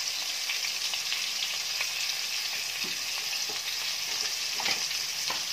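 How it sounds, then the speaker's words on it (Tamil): Ginger, garlic and spices fry in a pan with a continuous bright sizzle, punctuated by occasional soft scrapes and taps of stirring, with no talking. "நல்லா வறுத்துக்கோங்க."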